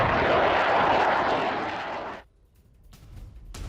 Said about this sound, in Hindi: वेनेजुएला की ओर F-A-18 सुपर हॉर्नेट की उड़ान की ये तस्वीरें देखिए।